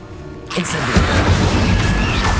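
After a brief quiet moment, an Incendio fire spell ignites in Hogwarts Legacy with a sudden loud whoosh and low boom, followed by a sustained roaring rush of flame.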